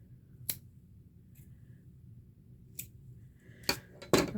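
Scissors snipping paper for Thanksgiving craft centerpieces, several crisp separate cuts spaced over a few seconds, close and clear against a quiet room hum.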